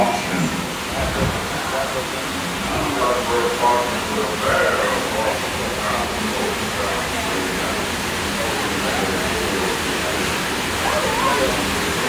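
Water rushes and splashes steadily around a log flume boat on Splash Mountain at Magic Kingdom, Walt Disney World, a dense roar that continues throughout while voices talk over it.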